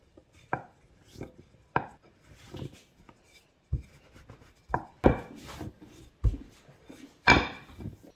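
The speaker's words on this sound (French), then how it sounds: "Je viens juste finir couper la pâte." A kitchen knife chops through rolled ravioli pasta dough on a wooden board, giving a series of sharp, separate thuds at an uneven pace with quiet pauses between them.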